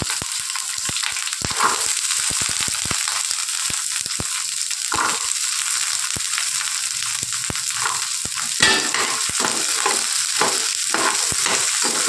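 Small shallots frying and being stirred in hot oil for a garlic tomato chutney, a steady close sizzle broken by frequent scraping stirs of a spoon against the pan, with no talk.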